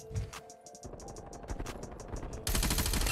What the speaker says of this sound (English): this is a very aggressive AR